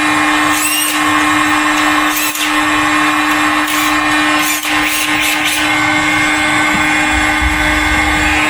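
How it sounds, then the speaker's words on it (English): A power drill bores holes in the rear of a Bradford GXL car under restoration, a loud continuous high whine with steady pitch and brief dips where the bit catches, in a workshop setting. "And Chris drilling the holes in the back"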